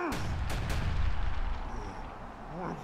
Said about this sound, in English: Is someone shooting at us?